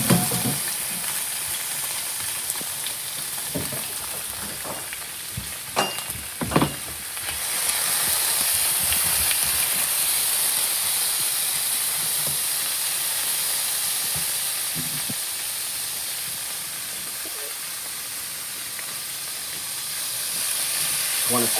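Beef searing in a hot wok for a Vietnamese crispy-noodle stir fry, a loud steady hiss and sizzle of steam after a few sharp clanks of the pan, filling the whole stretch without talk.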